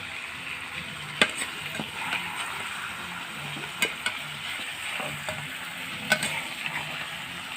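Meat sizzles and fries in a home kitchen pan, a steady hiss with periodic scraping stirs of a utensil against the metal, several sharp clinks standing out near the microphone.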